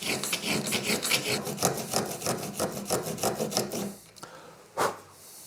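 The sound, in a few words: hand tool cutting wood on a pencil case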